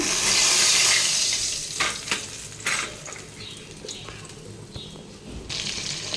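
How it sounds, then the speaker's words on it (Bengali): Fish frying in a pan for a home lunch gives off a steady sizzle, loudest at the start, with a few sharp clatters and stirring knocks midway. There is no talking. "আজকে দুপুরে এই যে মাছ ভাজা বসিয়ে দিয়েছি"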